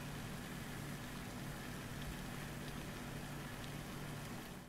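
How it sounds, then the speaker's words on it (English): Water from a college fountain makes a constant, uniform splashing hiss at a steady level, with a faint low hum underneath and no talking. "Next up, the fountain in my college."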